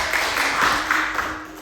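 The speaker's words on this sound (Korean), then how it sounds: "우리 박수로 환영하겠습니다." A church congregation applauds to welcome the pastor to the pulpit, a dense, steady patter of many hands filling the room at moderate loudness, with a faint low hum beneath.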